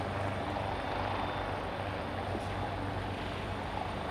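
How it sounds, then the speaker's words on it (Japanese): A rescue helicopter's steady rotor thrum and engine roar fill the air continuously during a hoist rescue at a Yokohama disaster-preparedness drill, close and loud, with no voices. "ヘリコプターによる救出が開始されました。"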